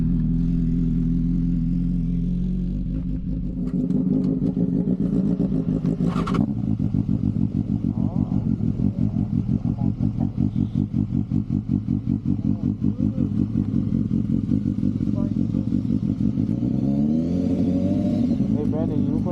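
Motorcycle engines idle and rev nearby as riders swap bikes, a steady throbbing putter with a rising rev near the end, while people talk over it.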